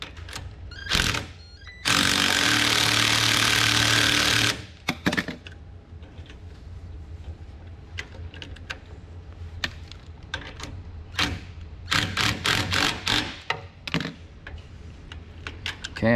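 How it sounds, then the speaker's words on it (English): Cordless drill spinning a nut onto a boat buckle mount on a 2021 Bass Tracker Pro Team 175 trailer, a loud steady whir of about two and a half seconds, surrounded by scattered clicks, clanks and handling noises. "keep that thing in place so we can spin this one on with the drill"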